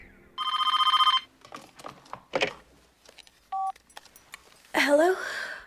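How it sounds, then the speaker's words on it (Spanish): A telephone rings in a house in the horror film Scream: a loud electronic ring burst lasting under a second, a short tone later, then scattered clatter and a voice at the end. "Es entonces cuando el teléfono vuelve a sonar."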